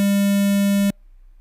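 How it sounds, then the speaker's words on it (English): An Arduino buzzer alarm in a simulated password lock, set off by a wrong code, plays a loud, buzzy low electronic tone that holds steady and then cuts off abruptly into silence. "So that's the alarm."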